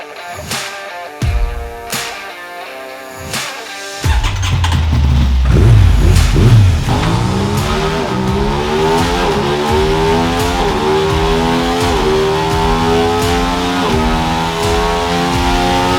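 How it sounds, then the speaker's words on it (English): A brand new 2021 Aprilia RS660 motorcycle is revved on a dyno. After a few sharp blips at idle, the engine climbs in one long, loud, sustained pull, its rising pitch sweeping steadily upward. "take the brand new Aprilia Rs660 onto the dyno for its first test"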